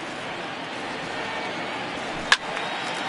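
In MLB The Show 19, a bat knocks a ball foul with a single sharp, loud crack that rises out of a low hum of stadium crowd noise.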